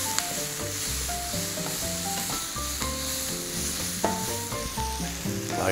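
Onions frying in a pan, giving a steady, close sizzle throughout, with faint stirring and a few clinks over the top and no talk.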